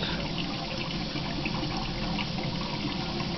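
Two-cell HHO hydrogen generator running, a steady dense bubbling and fizzing hiss that holds unbroken and loud throughout, like water churning, with no talk.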